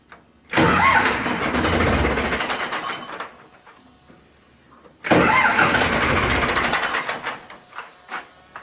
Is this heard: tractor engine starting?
yes